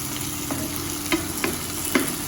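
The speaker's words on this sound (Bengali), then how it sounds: "আলু আর ঢেঁড়সটা ভেজে নিয়ে তারপর লাউটা বসিয়ে দেবো।" Potatoes and okra frying in a pan in a home kitchen, a faint steady sizzle with a few light stirring scrapes of a utensil at intervals.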